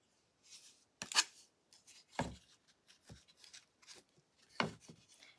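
A nail file rasps along the paper edges of a decoupaged wooden cutout in short, scratchy strokes with pauses between them, close and quiet, with no talking.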